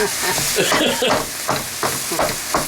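Spoon stirring a sloppy joe meat mixture in a hot pan, rhythmic scraping strokes about every third of a second over a continuous sizzle, close and fairly loud.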